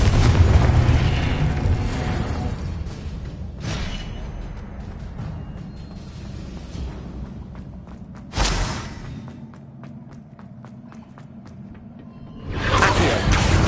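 Confringo fire spells bursting in Hogwarts Legacy, several loud booming explosions with whooshing tails spread across the scene, the sharpest blasts landing near the middle and at the end over a low rumbling background.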